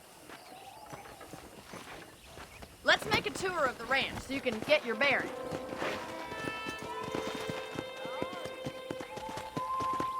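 A horse's hooves clip-clop steadily on a ranch in Red Dead Redemption, with a whinny and snorting near the start, while someone talks over the riding and faint music plays underneath.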